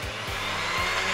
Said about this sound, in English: we're about to do something pretty dangerous, and that's using the electric whisk